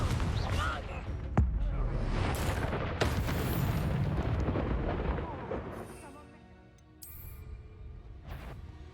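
A Confringo fire spell blast in the video game Hogwarts Legacy, heard as roaring booms and crackling bursts amid dense combat noise. The din fades briefly, then returns with sharper impacts.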